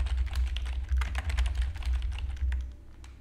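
Quick bursts of typing on a computer keyboard as a store name is entered, rapid close clicks over a steady low hum, trailing off at the end.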